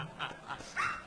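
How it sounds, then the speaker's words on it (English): Border collie dogs give a quick run of short, high yips and barks, three quick bursts close together in a brief moment. "Our border collies are a little tied up right now."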